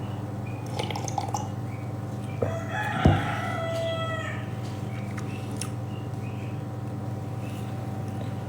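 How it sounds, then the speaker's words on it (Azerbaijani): A rooster gives a single crow, moderately loud and wavering, over a constant low hum during a live stream, followed by a sharp tap and quieter background noise. "Xoruz niyə banlayır?"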